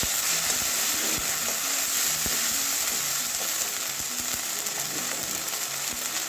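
Ginger-garlic paste fries in hot oil with a dense, unbroken hiss that stays loud and even throughout, while faint, scattered ticks and soft stirring sounds rise through the sizzle. No voices.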